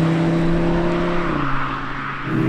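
Engine note of an Audi RS3 8Y as heard in the cabin, partly piped through the speakers, a droning multi-tone hum that shifts downward as revs ease off, then rises slightly again at the end.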